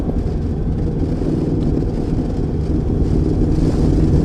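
A Honda NC750X motorcycle runs on a race track with a steady, loud, close engine drone, and the low rumble holds level throughout with no clear breaks.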